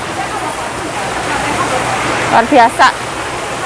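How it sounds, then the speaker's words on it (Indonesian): Heavy rain pours steadily on the way to a market, a loud continuous hiss filling the scene, with a voice speaking briefly over it near the end. "Sekarang hujan deres banget."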